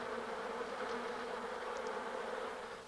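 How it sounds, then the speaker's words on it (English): Honeybees buzz steadily in a dense, continuous hum that stays loud and even throughout, with no voices. "The honeybee has been called the most important insect in the world."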